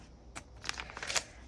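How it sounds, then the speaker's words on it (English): Planner pages torn out one after another, a few quick dry ripping bursts of paper, close and fairly quiet. "So if I just rip them out."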